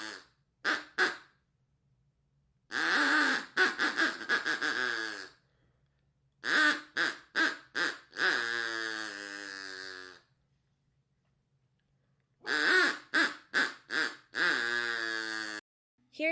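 A duck quacks in repeated bursts of rapid, harsh calls with short pauses between them, loud and close with no other sounds.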